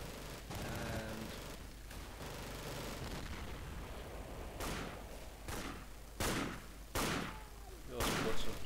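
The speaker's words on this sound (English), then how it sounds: "we also put some suppressive fire down" Scattered gunfire from suppressive fire in the WWII shooter Darkest Hour on Omaha beach, with several sharp shots spaced irregularly over a constant battlefield rumble and some faint voice.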